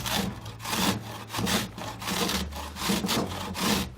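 A whole onion is pushed across a box grater in a kitchen, producing a steady series of rough, rhythmic rasping strokes about twice a second, close and fairly loud, with no talking.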